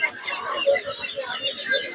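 A Sultan chicken at a poultry market clucks in a steady run of short calls, close and fairly loud, with a busy market hubbub in the background.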